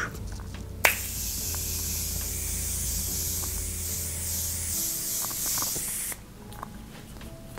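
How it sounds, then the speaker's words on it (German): A Morphe setting mist bottle gives one sharp pump click, then a continuous fine spray hisses close up for about five seconds before stopping, leaving faint background noise and a soft tap. "Ich finde auch der Sprühknopf wunderbar. Es kommt richtig schöner Riesel raus."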